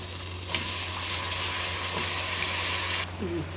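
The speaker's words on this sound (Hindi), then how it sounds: "ये इसमें पानी थोड़ा सा डाला है, 1/2 कप" Water poured into a hot pan of spiced potato masala with potato slices: a loud, steady rushing hiss and sizzle lasting about two and a half seconds, then a quieter bubbling simmer, no voices.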